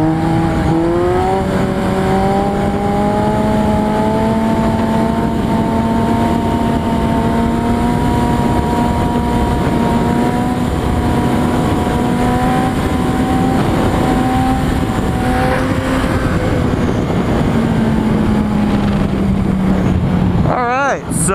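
Motorcycle engine revving hard in third gear through a stand-up wheelie, a loud, steady high-pitched drone that climbs slightly and holds for about twenty seconds before easing off at the end, with no talk over it.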